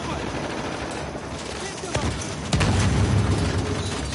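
Gunfire from snipers and other weapons in the video game Uncharted: The Lost Legacy, a dense and steady barrage with sharper shots cracking out near the middle and a louder, heavier stretch toward the end.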